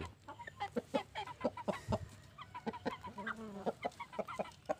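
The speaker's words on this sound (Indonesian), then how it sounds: "si namanya ayam sudah mengganggu kita" A chicken clucks in a run of short, repeated, fairly close calls, with a few drawn-out notes mixed in and no talk over them.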